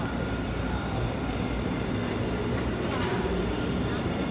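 Steady, loud rumble of a Boston subway train running on the rails at night, a continuous low roar with faint squealing high tones, heard from inside the car.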